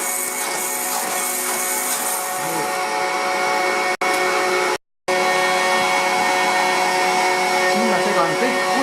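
An electric kitchen mixer blending ingredients for a pumpkin roll sponge cake, whirring loud and steady close by, cut out by two brief stops midway.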